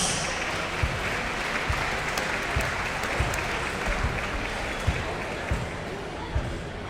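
Audience applause for three coaches at a county basketball finals, a dense, sustained wash of clapping from a large crowd in a gym, steady throughout with scattered thumps and voices underneath.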